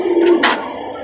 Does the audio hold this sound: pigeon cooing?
yes